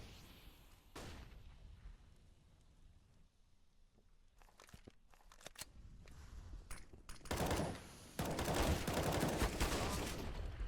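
Gunfire from a Counter-Strike match: scattered sharp shots early, then dense bursts of rapid fire building louder toward the end, with a few crisp isolated cracks in between.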